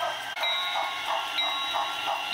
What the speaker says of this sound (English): Here comes the short freight train with the GP30 locomotive